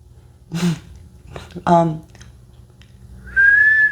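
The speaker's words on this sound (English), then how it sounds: "You can whistle?" A single sustained whistled tone rings out clearly near the end, after a few brief bursts of nearby talking.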